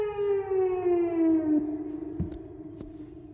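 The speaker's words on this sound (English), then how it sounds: "siren test is now done" A video-game siren test: a single steady siren tone winds slowly downward and fades, followed by a few faint clicks near the end.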